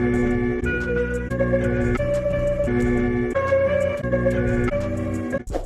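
A dense, low-pitched looped music sample, pitched down 100 cents in Fruity Slicer, with layered harmonic tones, chopped into repeating segments with abrupt cuts between them, steady and loud.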